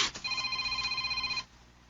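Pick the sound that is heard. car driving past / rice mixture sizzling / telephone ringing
telephone ringing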